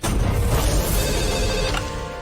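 A telephone rings with an incoming call, its bell-like tone loud and continuous through nearly the whole short moment, fading slightly at the end.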